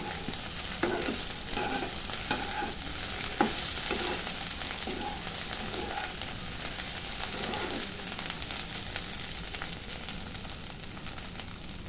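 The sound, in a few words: stirring and frying mushrooms with coriander cumin powder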